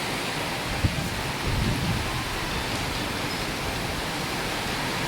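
Heavy rain pours down steadily in a strong wind during Typhoon Kristine, a dense, loud roar that never lets up, with no talking.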